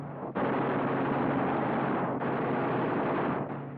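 A sustained, roaring burst of machine-gun fire from eight wing guns of a Thunderbolt fighter on a strafing run, loud and continuous with a brief break partway through.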